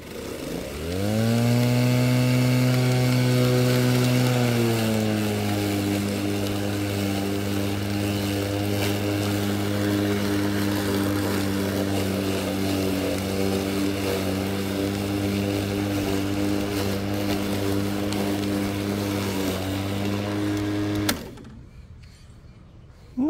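A Greenworks 40V 16-inch battery lawn mower runs with its grass bag attached, giving a steady, loud motor whine close by. The pitch drops slightly early on, then holds for about twenty seconds before the mower cuts off abruptly.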